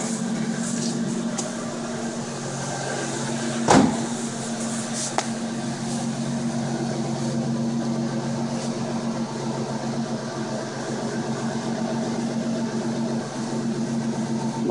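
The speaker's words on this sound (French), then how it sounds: "Je vais avoir le moteur maintenant." Steady low engine hum of a Ford Mustang idling, constant and fairly loud throughout, with one brief sharp burst partway through and no talking.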